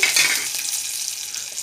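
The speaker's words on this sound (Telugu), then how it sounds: "తాలింపు కోసం ఆవాలు జీలకర్ర ఎల్లిమిర్చి కరివేపాకు వేసి తాలింపు పెట్టుకుని" Mustard seeds, cumin, chillies and curry leaves sizzle loudly in hot tempering oil for an ivy gourd chutney, a steady close crackle with a light stir and no talk.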